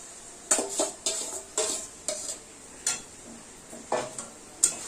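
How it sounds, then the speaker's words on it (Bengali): Meat going into spice masala in a pot, heard as a run of sharp, evenly spaced metal scrapes and clinks of a utensil against the pot over a soft background hiss, with no talk. "মশলা কষানোর মধ্যেই মাংসগুলো এবার দিয়ে দেবো"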